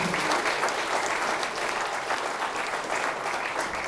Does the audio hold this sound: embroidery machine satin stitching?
no